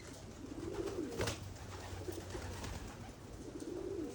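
Pigeons coo being fed alongside other birds and crows, soft repeated throaty coos rising and falling near the microphone over a steady outdoor background.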